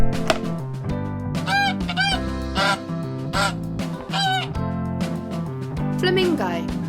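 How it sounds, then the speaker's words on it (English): Goose honks, the call of a goose in an educational bird-sounds sequence, rise as several short nasal calls over steady background music, fairly loud and close. "Goose."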